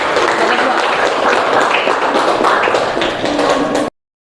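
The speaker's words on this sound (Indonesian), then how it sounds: "Beri tepuk tangan untuk kelompok 3." Dense, steady clapping from a group filling a classroom, with some scattered voices underneath, ending abruptly.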